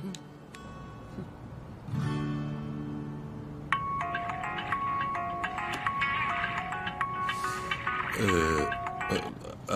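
A mobile phone ringtone plays a repeating electronic melody of bright chiming notes, starting softly and then growing fuller, with a short snort-like sound and faint voices in the background.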